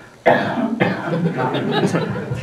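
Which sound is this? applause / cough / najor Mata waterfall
cough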